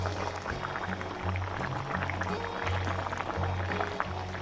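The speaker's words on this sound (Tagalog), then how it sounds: "Hahaluin lang natin siya" Squash and taro with mushroom simmering in coconut milk in a pot for ginataang kalabasa, bubbling steadily with soft liquid churning and gurgles as it is stirred, close and fairly quiet.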